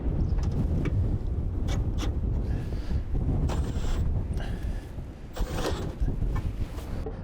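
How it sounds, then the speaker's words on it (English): Strong wind buffeting outside an RV, a continuous low roaring rumble against the microphone with occasional gusts and faint rattles, loud and close. "The wind was blowing it."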